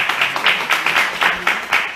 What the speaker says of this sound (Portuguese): Vamos também bater uma salva de palmas